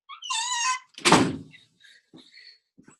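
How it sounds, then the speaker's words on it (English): An office door squeaks as it swings, then shuts with a solid thunk, followed by faint rattles and small settling sounds. "let me shut my door real quick"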